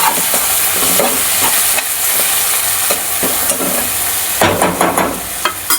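Kolhapuri-style mutton fry masala is mixed in a hot pan, with a loud, dense sizzle close by and repeated scraping strokes of the spoon that grow choppier toward the end.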